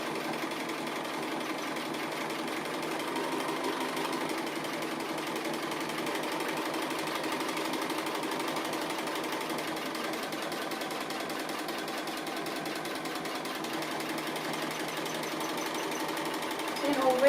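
A sewing machine runs continuously at a steady buzzing pace while sewing straight stitches on appliqué fabric. Someone talks throughout over the constant motor hum.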